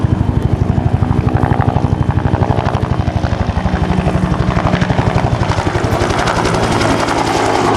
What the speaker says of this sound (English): Bell 47 turning up in front of us now.